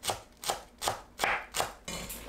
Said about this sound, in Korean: 그동안 파를 썰어주세요.